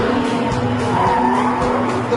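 Tires of a Porsche 918 Spyder skid loudly as the rear end breaks away, a sustained screech over the steady engine drone, close and continuous with no talking.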